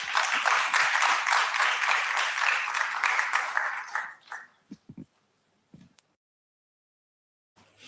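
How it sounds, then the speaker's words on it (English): Audience applause after a presentation at a medical conference, a dense sustained wash of clapping that fades out after about four seconds, leaving a few scattered isolated claps and near-silence. "Can we give him another round of applause?"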